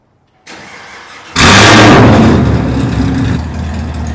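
A Chevrolet Camaro with a loud aftermarket exhaust fires up inside a garage, a brief starter whir followed by a sudden booming roar that settles into a deep, rumbling idle, close and very loud.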